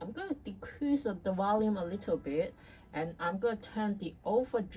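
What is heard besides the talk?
None of the usual background noises is heard.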